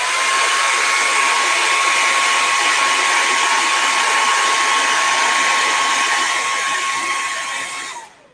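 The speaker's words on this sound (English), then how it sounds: "Let me just bring a hairdryer in real quick." A hair dryer blows loudly and steadily up close with a constant whirring whine, then shuts off at the end.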